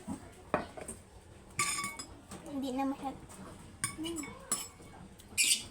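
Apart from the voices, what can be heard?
washing dishes, pots and cutlery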